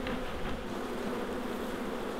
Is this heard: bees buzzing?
yes